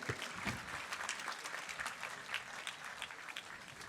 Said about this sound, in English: A huge round of applause for the Wall of Indian Hockey, PR Srijesh.